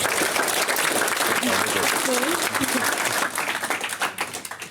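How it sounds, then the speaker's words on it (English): Wedding guests applaud in a dense, loud wash of clapping, with voices and a brief cheer mixed in, sustaining evenly before thinning into scattered claps near the end. "Round of applause from everybody."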